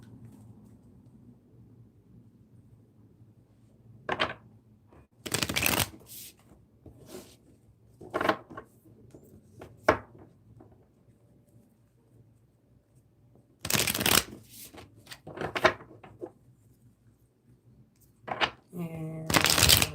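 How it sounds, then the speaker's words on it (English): Tarot cards are shuffled in repeated short riffles and taps, close by, spread across a quiet room with brief pauses between bursts. "And we'll shuffle these ones again."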